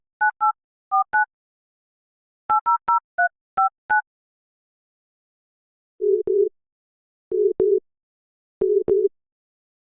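A telephone call to a lorry service begins with a quick series of keypad dialing beeps. Three evenly spaced ringback tone bursts follow, clean and alone with no voices.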